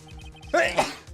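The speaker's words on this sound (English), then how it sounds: "Ooh, that was a genuine sneeze." A single sharp sneeze in the video game Phoenix Wright: Trials and Tribulations bursts out over a quiet, repetitive background tune.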